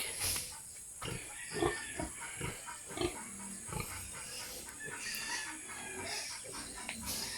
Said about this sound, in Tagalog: Mga baboy sa bahay baboy ng ate ko kapatid ko